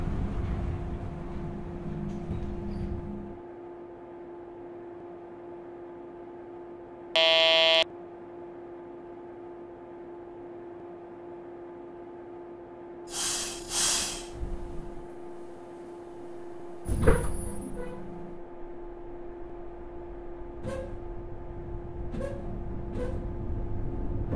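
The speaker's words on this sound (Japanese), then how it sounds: "ドアが閉まります。" A door-closing buzzer on a JR Osaka Loop Line 103 series train in the BVE5 simulator sounds as one short loud tone, followed by door thuds and clunks over a steady electrical hum and low motor rumble.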